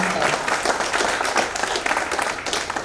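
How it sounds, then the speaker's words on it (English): A reunion audience in a hall breaks into dense, steady applause, many hands clapping together loudly and evenly throughout. "a big round of applause"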